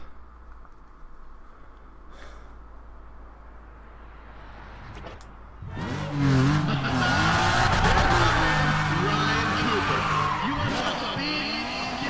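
Car drifting in Need for Speed ProStreet, with quiet engine hum and music-like tones at first, then from about six seconds a loud, sustained tire squeal and skidding over revving engine that holds to the end.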